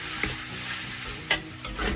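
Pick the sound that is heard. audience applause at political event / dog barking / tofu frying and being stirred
tofu frying and being stirred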